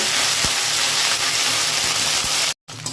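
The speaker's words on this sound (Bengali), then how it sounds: "তখনই এর মধ্যে দিয়ে দেবে বেটে রাখা আদা। দিয়ে আবার একটু ভেজে নেব।" Ginger paste fries in hot spiced oil, giving a loud, continuous close sizzle and hiss with a brief dropout near the end.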